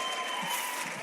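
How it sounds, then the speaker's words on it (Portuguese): Church congregation giving a round of applause, a brief dense wash of many hands clapping, steady and fairly loud with no voices on top. "uma salva de palmas"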